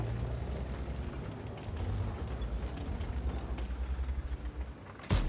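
A Bofors Tornvagn tank in World of Tanks rumbles with a low, steady engine drone for several seconds, then fires one sharp, booming cannon shot near the end.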